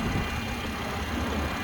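A 2018 BMW 340i xDrive engine idles smoothly, a low, steady hum at moderate volume, heard briefly and alone.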